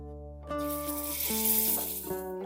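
Bread slices coated in batter fry in a pan with a steady sizzle that swells after a brief quiet start, accompanied by a sustained tonal hum.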